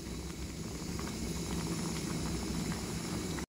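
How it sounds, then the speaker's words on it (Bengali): Pulao rice boils in a pot with steady bubbling and a soft steamy hiss, continuous and close, with a sharp knock at the very end. "পোলাও বসিয়ে দিয়েছি, পোলাও চাল ফুটেও গেছে"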